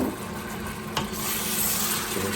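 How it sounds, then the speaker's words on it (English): Brisket is stirred in a hot pan with dark soy sauce, giving a close continuous sizzle with a brief scrape of the utensil partway through. "Give it a stir."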